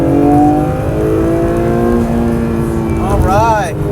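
A 2022 Acura NSX accelerates hard from around 30 mph, its engine note climbing loudly and steadily through the revs before a quick shift and a fresh rise near the end.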